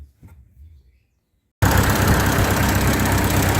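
A 1945 Ford 2N tractor engine runs loud and close at a steady idle-speed roar, kicking in abruptly after a quiet start with faint background sounds.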